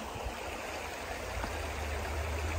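Grizzly Creek in a redwood state park, flowing into the Van Duzen River, makes a steady, full rushing and gurgling wash, constant throughout with no voices.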